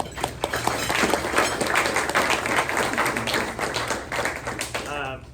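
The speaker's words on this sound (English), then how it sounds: "Let's give them a round of applause" Attendees at a sports press luncheon applaud the event's sponsors, a dense patter of many hands clapping that mixes with murmured voices and lasts the whole stretch at moderate volume.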